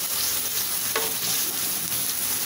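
Carrots and beans for vegetable fried rice are sautéed in a pan. A loud, continuous close sizzle runs throughout, with a single utensil clink partway through.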